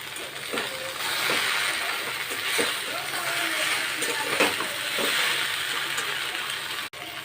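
Okra and potatoes frying in mustard oil in a pot, a close, loud, continuous hissing sizzle with scattered pops and crackles, steady across several seconds.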